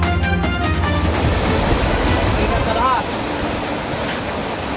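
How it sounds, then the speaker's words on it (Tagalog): Floodwater rushes fast along the Pililla River at barangay Hulo in Pililla, Rizal, producing a loud, broad, steady roar. A brief higher whine cuts through partway, and the roar drops slightly after about three seconds. "Mabilis ang agasan ng tubig sa bahaging ito ng Pililia River sa barangay Hulo sa Pililia Rizal."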